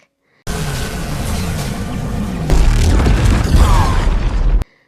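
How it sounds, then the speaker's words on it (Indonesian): A loud cinematic explosion of a ship rumbles with a deep boom and crashing debris, heavy and sustained for several seconds before cutting off abruptly. "Hal itu membuat suara ultrasonik memantul ke dalam kapal dan membuat kapal itu meledak."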